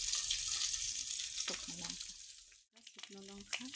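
Panch phoron spices and dried red chillies crackle in hot oil with a bright, hissing sizzle. The sizzle drops out briefly partway through, and faint voice-like sounds rise over it.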